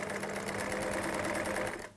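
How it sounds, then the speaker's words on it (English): A sewing machine stitches along the center front of a knitted cardigan with a fast, steady mechanical whir of rapid needle strokes, close and moderately quiet, stopping at the end. "But you just stitch next to the center front,"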